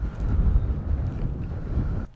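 Cold wind gusts hard against the microphone in an open park beside an airport, a loud steady buffeting roar that drops away abruptly near the end.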